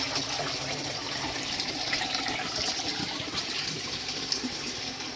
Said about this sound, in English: we've got the water coming up from the sump tank. Again, it's flowing approximately 100 gallons per hour. It's filling this grow bed